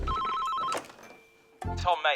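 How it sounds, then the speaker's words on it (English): A telephone rings with a trilling electronic bell that stops, followed by a brief pause and a voice talking over another ringing burst. "Oh, mate, I think you've got a phone call."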